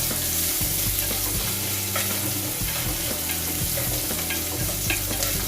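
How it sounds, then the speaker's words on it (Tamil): Onions and coriander stems sautéing in a pan give a steady, loud, close sizzle with continuous stirring scrapes running throughout. "இது கொஞ்சம் வதங்கட்டும்."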